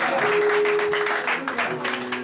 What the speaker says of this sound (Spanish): Aplausos al Señor, con fuerza